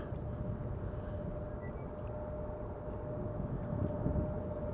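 An Embraer E2 jet airliner arriving at Amsterdam Schiphol, a steady low engine rumble with a faint whine, distant and continuous.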